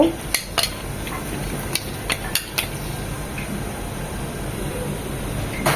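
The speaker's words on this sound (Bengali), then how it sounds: "সামান্য একটু লবণ আর একটু হলুদ দিয়ে মাছটা মাখিয়ে নেব" Hilsa fish pieces being mixed with salt and turmeric in a kitchen give off scattered light clinks and taps over a steady background hiss, sharper in the first half and then fading into the hiss.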